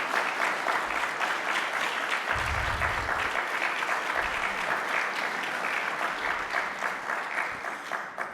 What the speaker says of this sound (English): stand up. Let's applause.